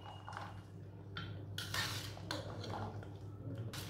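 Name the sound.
mixing chaat ingredients in a bowl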